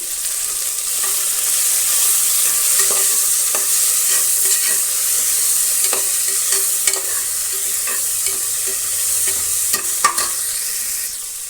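Ginger garlic paste fries in hot oil for a potato and carrot rice bath, with a loud, continuous close sizzle and repeated scraping knocks of a spoon stirring the pan.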